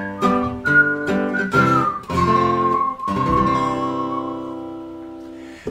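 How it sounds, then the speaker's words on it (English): A man whistles a bright, steady folk tune, his notes gliding from one to the next over a strummed guitar accompaniment, clear and close. "Whistle."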